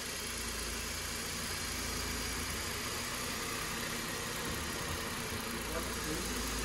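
A salvaged 2016 Audi A1 engine runs at a steady idle with a faint, continuous low rumble and slight vibration throughout, heard from a short distance.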